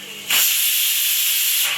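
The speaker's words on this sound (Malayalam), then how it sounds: "ഒറ്റ വിസിൽ വരുമ്പോഴത്തേക്ക് നമുക്ക് സ്റ്റവ് ഓഫ് ചെയ്തിടാം" Steam bursts from a pressure cooker with a loud, steady hiss that starts abruptly and keeps going without a break.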